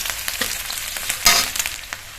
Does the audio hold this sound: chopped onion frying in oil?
yes